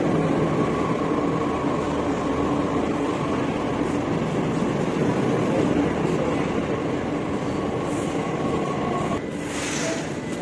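Delhi Metro train heading to Noida, a loud steady rumble of wheels and carriage noise with a high whine, ending in a brief hiss near the close, with no talk.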